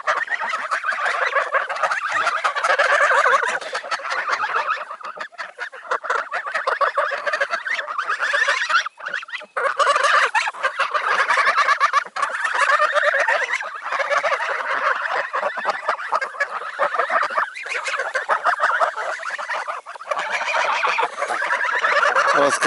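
A flock of geese honks and cackles continuously at close range, with many overlapping calls forming a noisy chorus.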